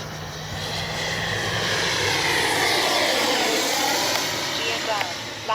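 Twin 64mm electric ducted-fan Arrows RC F-15 model jet flying overhead, a steady loud whooshing whine that swells and fades slightly as it passes, with a faint voice underneath.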